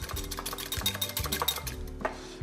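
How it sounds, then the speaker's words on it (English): A beaten egg being mixed in a bowl for a Cajun frog leg batter, with a steady run of quick, close scraping and clinking strokes over about two and a half seconds, no voices. "Give that a nice little mix."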